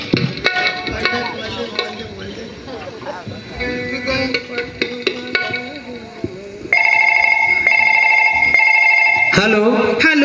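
A steady electronic telephone ring sounds for a few seconds during a Chhattisgarhi Nacha Gammat folk theatre performance, coming in loud over stage music and background noise after a stretch of busy, mixed sound.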